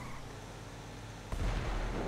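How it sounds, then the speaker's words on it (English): An explosion booms in a video game, a sudden deep burst that rises abruptly out of a dense, roaring background rumble and sustains loudly. "Ooh, explosion."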